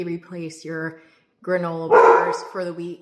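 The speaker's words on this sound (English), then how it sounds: "Apologies for the dogs." Several dogs bark and yip indoors in a home kitchen, sharp repeated barks with a harsher burst midway, mixed under someone talking throughout.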